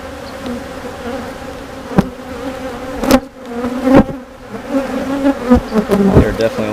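Agitated honey bees drone loudly and steadily around an open hive while frames are handled, a dense close buzz with sharp bumps and clicks from the frames and occasional passing insects.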